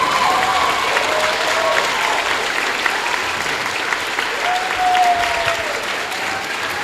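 An audience at an evening school prestige ceremony gives sustained, dense applause that stays steady throughout, with faint voices mixed in.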